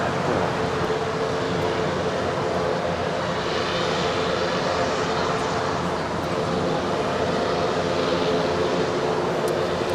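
An American Airlines jet takes off from runway 25 right at Los Angeles International Airport, a sustained, broad engine roar heard from a distance, steady and loud without breaks.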